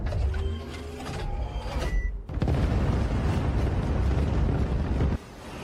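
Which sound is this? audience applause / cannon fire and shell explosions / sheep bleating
cannon fire and shell explosions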